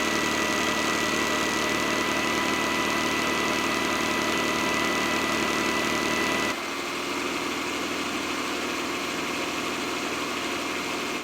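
An Ecovacs Deebot N8 Pro robot vacuum runs with a steady droning motor hum and airy whir, close and constant, with a slight drop in level partway through.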